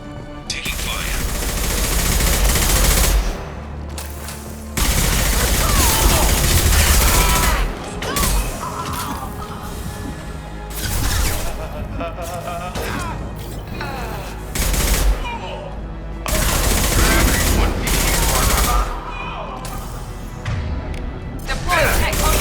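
Gunfire in the video game Mass Effect 2, with loud bursts of automatic weapon fire and heavy impacts coming in waves between short lulls, close and dense, under combat voices calling out.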